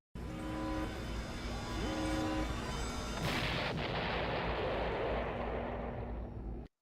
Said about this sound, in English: Oh, explosion. Books go everywhere.